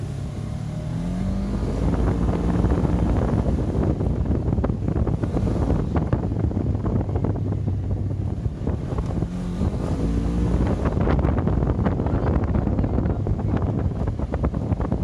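A Can-Am Maverick Sport DPS 1000R UTV with roughly 100 horsepower accelerates hard, its engine roaring loud and steady throughout with wind buffeting the microphone and rising pitch sweeps as it pulls away.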